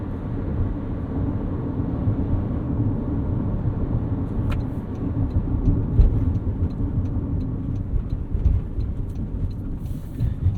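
A 2023 Toyota Corolla Cross Hybrid XSE rolls over a rough stretch of road, its steady low cabin rumble swelling slightly over bumps, with faint ticking rattles near the end.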